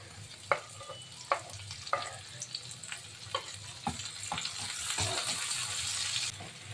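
Chopped onion and tomato sizzle quietly in a pan with asafoetida and curry leaves, with sharp clinks of a spoon stirring at irregular intervals and a soft steady frying hiss underneath.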